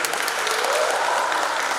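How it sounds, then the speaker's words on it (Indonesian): Dense, even applause from a crowd greets the newly blessed couple at a church wedding ceremony, filling the short stretch without a break. "Kita beri tepuk tangan untuk pasangan yang baru, Alan dan Patrick."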